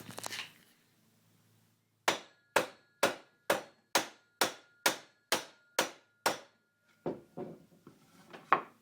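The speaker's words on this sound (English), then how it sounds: "A few more whacks." Eleven sharp, evenly spaced hammer whacks ring out close by, knocking a part from a lathe headstock, followed by a few lighter, irregular taps after a quiet pause.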